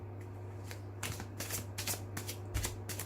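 A deck of tarot cards being shuffled by hand, with repeated riffling bursts and soft slaps close by over a steady low hum, no talking.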